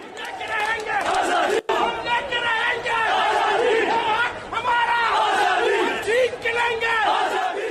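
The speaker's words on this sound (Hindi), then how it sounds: "हर जगह दंगाई भीड़ एक ही नारा लगा रही थी" A rioting crowd in Pakistan chanting slogans, a dense roar of many voices rising and falling in rhythmic shouted chants, loud and continuous with one brief break.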